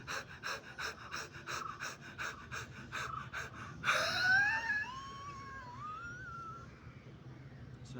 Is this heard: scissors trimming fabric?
no